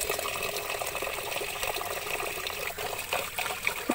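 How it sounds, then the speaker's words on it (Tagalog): Glutinous rice being rinsed by hand in water, with a steady close trickling, sloshing wash and small splashes running throughout, no voices. "Ngayon, hugasan na po natin ang ating malagkit."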